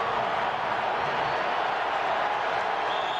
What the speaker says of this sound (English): the crowd in the end zone to our left, which is the north end zone, really trying to make a lot of racket